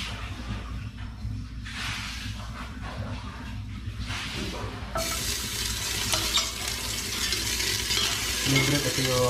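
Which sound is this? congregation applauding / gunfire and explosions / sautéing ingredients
sautéing ingredients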